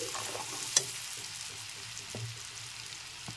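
Potatoes for aloo dum are stirred and fried in a pan with water-thinned spice, giving a steady soft sizzle broken by a few sharp spoon scrapes and taps against the pan, without talk.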